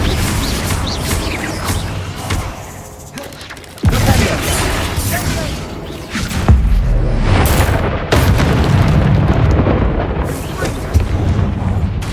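Confringo and Flipendo spells in the video game Hogwarts Legacy go off as several loud, booming blasts and bursts, layered over a thick, continuous stream of game effects.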